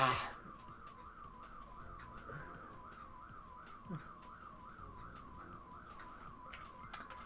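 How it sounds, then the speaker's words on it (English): A car alarm wails through a steady rising-and-falling siren cycle for the whole stretch, fairly loud against background noise during a Mario Kart Wii stream. "we listen to a car alarm instead of being hyped"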